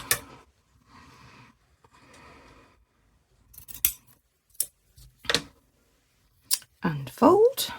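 Scissors snip through folded fabric during a fabric star craft, giving several short, crisp cuts spaced apart, with soft rustling of handled cloth between them and a voice speaking near the end.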